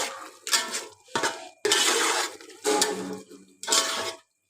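Spaghetti and egg being stirred and mixed in a pan, with several bursts of scraping and clinking utensil against cookware separated by short pauses, close and fairly quiet.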